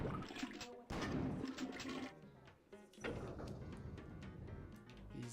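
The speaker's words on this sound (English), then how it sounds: "when you like shoot them, they make water like toilet flushing noises" Watery, toilet-flush-like gurgling and rushing noises that shot enemies make in the Halloween horror video game Fatum Betula, arriving in two swelling bursts with a short lull between, fairly quiet.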